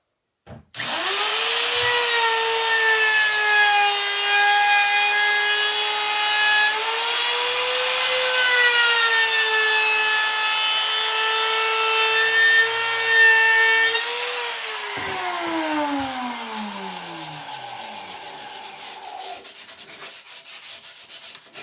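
A power router cuts into wood for a shaving horse, a steady high whine running loud for about fourteen seconds before spinning down, with no talking.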